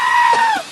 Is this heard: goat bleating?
yes